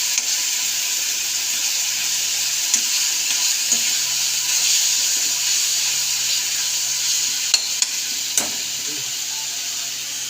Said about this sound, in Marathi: हे बघा भाजी फोडणी दिली.